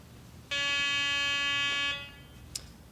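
A Garrett walk-through metal detector gate sounds its alarm as a hacksaw blade passes through, a loud steady electronic buzz lasting about a second and a half before stopping, followed by a faint brief click.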